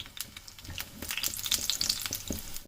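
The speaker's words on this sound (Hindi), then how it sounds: "बाकी बचे हुए रोल हैं मैं उनको भी डालकर इस ऑयल में फ्राई कर लूँगा।" Chicken spring rolls deep frying in hot oil, a dense crackling sizzle with rapid pops that grows busier as more rolls go in, heard up close without any talking.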